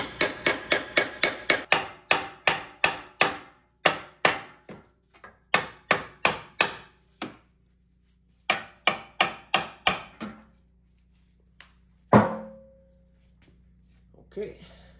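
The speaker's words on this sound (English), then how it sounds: "Now I'm going to spread the knuckle open with a chisel a little bit." Steel hammer repeatedly striking a chisel driven into a car steering knuckle to spread it open, a fast run of sharp ringing metallic blows that slows to spaced hits, with one louder clang near the end.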